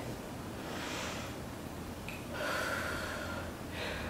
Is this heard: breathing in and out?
yes